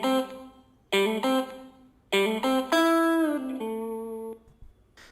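Electric guitar solo played dry with the delay and reverb switched off, a few separate picked phrases and then a held chord that rings out and fades, heard alone.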